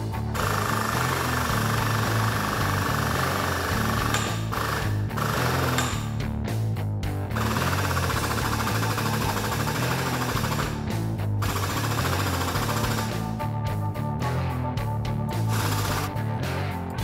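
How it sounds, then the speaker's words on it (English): High-strength Docol steel tubing for bolt-in engine bay bars is trimmed with a power tool, a loud, continuous grinding and rattling roar broken by a few short pauses. "Then I can trim the ends to fit."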